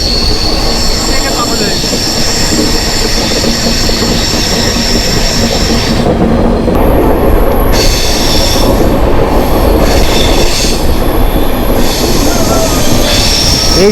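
Wheels of the Howrah–Jagdalpur Samaleswari Express squeal in long high-pitched tones on a tight U-shaped curve over a steady loud rumble of rolling rail cars, continuous throughout.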